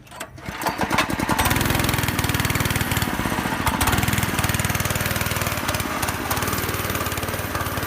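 A pickup truck engine revs hard and close, a loud, steady, rough roar that builds in the first second and then holds for the rest of the clip.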